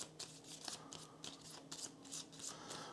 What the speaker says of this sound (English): I'll shuffle these and deal them out randomly.